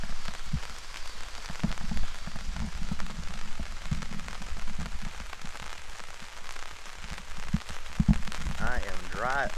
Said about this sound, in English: It can rain all at once.